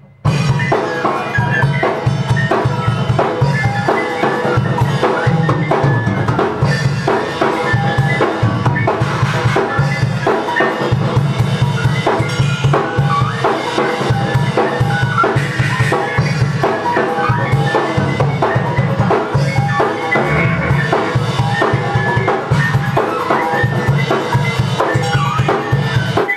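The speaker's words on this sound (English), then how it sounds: "Kitchen gamelan through at the pitch pirate." Kitchen gamelan, metallic percussion struck on kitchen objects and run through a pitch pirate effect, plays as a loud, busy, steady rhythmic pattern of ringing, bell-like hits throughout, with no talking.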